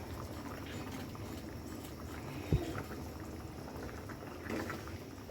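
Pangas fish curry broth with taro roots simmers in a pot, giving a soft, continuous bubbling that stays quiet and even, broken once by a single brief clink near the middle.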